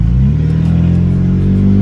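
A BMW X1 engine revs briefly and loudly up close, a deep, smooth mid-range roar that holds steady over a couple of seconds.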